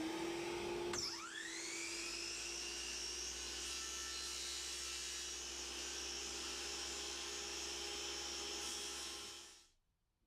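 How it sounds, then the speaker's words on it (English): A miter saw spins up and cuts a half lap joint in a board, held against a sacrificial fence; a steady, loud whine runs for about nine seconds before winding down and stopping. "we can quickly use this on the miter saw, and as long as you're careful, maintain pressure against the sacrificial fence"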